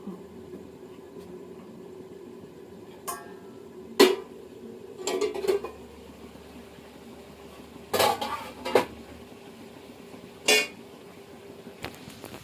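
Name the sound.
stirring chicken curry in a pot with both hands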